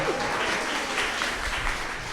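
An audience at a panel discussion applauds, a dense, steady wash of clapping that holds evenly from start to finish with no voices over it.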